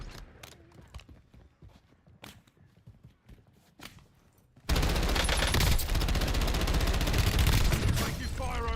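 Video game gunfire in a squad battle-royale match, scattered single shots and short bursts at first, then a dense, loud continuous barrage of rapid fire in the second half.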